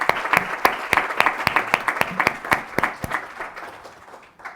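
Audience applause at a Spanish televised panel debate, with sharp, distinct claps ringing out loudly and steadily before tapering off toward the end.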